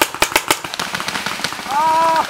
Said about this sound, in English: Dude, Bill, did you see those 5 guys that are shooting over there?